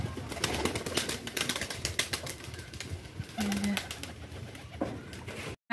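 Pigeons taking flight from a village pigeon house, a busy outdoor wash of fluttering and bird sounds at moderate distance, with a short tonal hum partway through.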